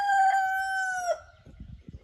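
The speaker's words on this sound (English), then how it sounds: "shut up, rooster" A rooster crows once nearby, loud and drawn out, then breaks off, followed by faint low rustling and thumps on a farm where potatoes are being dug.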